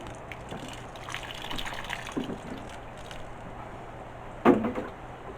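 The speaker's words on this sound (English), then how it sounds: "gently with the water, drown the poor things, just gets rid of the air pockets" Water pours gently from a can onto potted plants, a soft splashing trickle with faint knocks, ending in a brief louder splash near the end.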